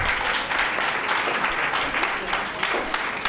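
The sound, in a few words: audience applause at a conference opening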